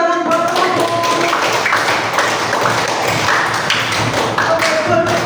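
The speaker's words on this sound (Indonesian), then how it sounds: "Berikan tepuk tangan buat teman-teman." Elementary school pupils in a classroom clap for their classmates, a dense, steady patter of many small hands filling the room with a busy, tapping texture throughout, with a little voice mixed in.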